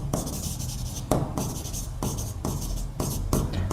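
Handwriting on paper while working a tenth-grade maths problem, a pen scratching in short repeated strokes with brief pauses between words, close and clear with no talk.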